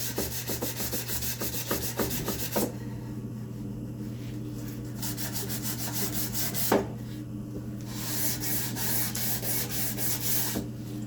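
Hand scuffing of a wooden spice rack during final cleanup before an oil finish, roughing up the surface in repeated rubbing strokes, then a pause, a sharp knock, and more steady scraping.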